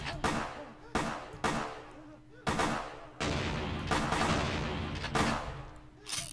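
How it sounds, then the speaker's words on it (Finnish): Repeated gunfire bursts in the video game Vampire: The Masquerade, sharp loud shots arriving in quick irregular volleys over about six seconds, with a voice faintly under the din. "Meitä ammutaan!"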